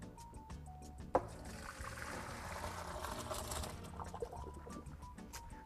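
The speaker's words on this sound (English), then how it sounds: "So I'm gonna take that over and pour it in the colander." Cooked shrimp and water pour into a colander in a home kitchen, a sustained splashing gush after a sharp clank, fairly close, with no talking.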